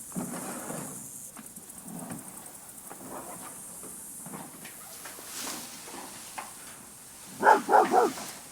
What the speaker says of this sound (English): Don't just bark.